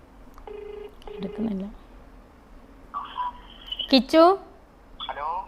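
A mobile phone held up to a microphone gives a few short keypad dialing tones, a pause, then a brief ringback-like tone and a voice coming through the phone.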